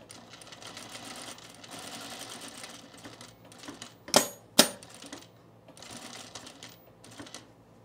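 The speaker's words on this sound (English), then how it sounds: "I'm gonna top stitch my flap" A sewing machine top stitching a shirt flap, running in short rhythmic bursts with pauses and two sharp clicks near the middle, close and clear with no speech.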